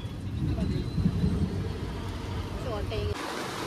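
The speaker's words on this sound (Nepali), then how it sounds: "पानी त जोडले पर्यो गाइस" Heavy rain and gusting wind make a dense, constant hiss and rumble close to the microphone, with faint voices briefly audible beneath.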